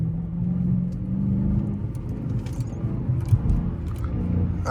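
A car's engine hums and rumbles from inside the cabin during a gear change with paddle shifters, a steady low drone with slight rises in revs, no talk over it.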